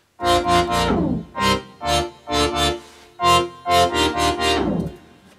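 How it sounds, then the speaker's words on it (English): Bright, harmonically rich chorus synth from a pop track plays staccato chords in rhythmic bursts, some quick triplet-like stabs and longer sustained hits, loud and alone with no voices. "The main part of the chorus is definitely this synth sound."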